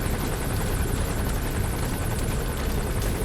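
Helicopter in Metal Gear Solid 5: The Phantom Pain video game, a loud continuous rotor thump and engine roar holding steady throughout.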